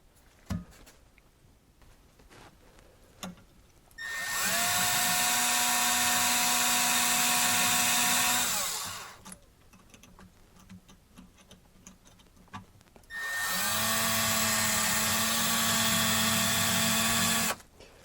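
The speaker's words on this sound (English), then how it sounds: "we're going to drill out this little pin here on the handle" A drill bores out the small retaining pin on a hot water relief valve handle, in two sustained whining runs of about five seconds each with a steady motor pitch, close by and loud, separated by quiet handling.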